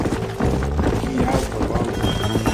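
Horse hooves clip-clopping at a riding pace in the video game Red Dead Redemption, close and rhythmic, with a brief whinny-like sound and music and faint voices in the background.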